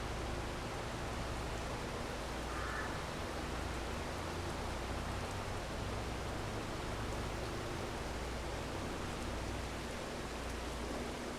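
Steady rain in the Farming Simulator 22 video game, a dense, even hiss filling the whole stretch at constant moderate loudness with a faint low hum beneath, no voices.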